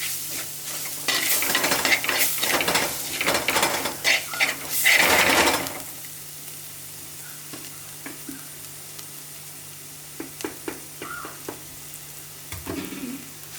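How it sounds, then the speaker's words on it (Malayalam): Ground coriander and spices are stirred as they fry in oil for a prawn curry: a vigorous scraping sizzle for several seconds, then quieter sporadic spatula scrapes and taps over a faint low hum. "നന്നായി ഇളക്കുക."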